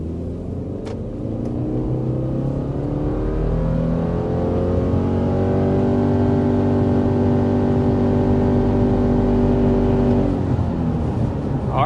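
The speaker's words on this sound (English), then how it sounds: "there is our acceleration up to 60 miles per hour with the 2025 Subaru Forester" A 2025 Subaru Forester with a 2.5-liter boxer engine accelerates hard toward 60 mph, its engine drone rising steadily in pitch with a loud, continuous roar heard from inside the cabin.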